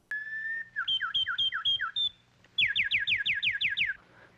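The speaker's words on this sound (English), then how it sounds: "Dick is learning how to whistle at girls" A man whistles at girls in a stately manor: a long rising note, then a quick series of chirping two-tone whistles, a pause, and a louder rapid burst of swooping whistles, close and clear.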